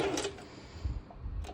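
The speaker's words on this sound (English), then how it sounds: "I'm going to do just one straight stitch over, like this, and go all the way till the end." A sewing machine runs a straight stitch across bikini fabric, giving a short, quiet whirring burst with light mechanical ticks.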